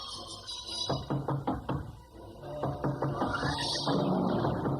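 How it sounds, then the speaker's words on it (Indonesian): Knocking on a wooden house door as a radio drama sound effect, several sharp knocks in two bursts with a pause, fairly close and loud, over faint background ambience. "Biarkan saja ia mengetuk terus."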